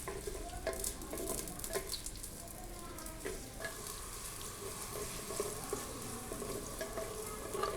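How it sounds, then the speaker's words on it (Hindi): Chopped onion frying in oil in a pot, a continuous soft sizzle with repeated scrapes and taps of a spoon stirring against the metal, close and fairly quiet. "इसमें हम कटी हुई 1 अदद प्याज शामिल करेंगे। प्याज को हमने हल्का से नरम करना है।"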